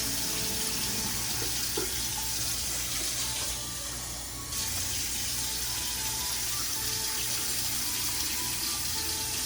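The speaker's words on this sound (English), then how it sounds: "then we're going to start pouring our water" Water pours steadily into a Christmas Yule simmer pot, a continuous close splashing flow with a brief shift in tone partway through, no talking.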